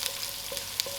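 Green chilies, cumin and garlic fry in oil for brinjal dhal, a short burst of even sizzling with a couple of light crackles near the end.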